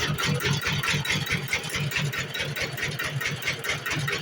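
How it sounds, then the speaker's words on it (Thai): A ride-on farm tractor's engine runs under throttle, a loud, close, steady chugging with rapid regular pulses that holds an even rhythm throughout. "ตัวนี้เข้าไปเร่งเครื่องนะครับ"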